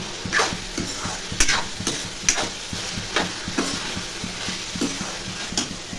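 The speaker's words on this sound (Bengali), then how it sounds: "বিনস, গাজর, ক্যাপসিকাম, কড়াইশুঁটি এগুলো ভাজা করে নিচ্ছি" Beans, carrot, capsicum and peas fry in a pan with a continuous sizzle, broken by regular scraping and clacking strokes of a spatula stirring them up close.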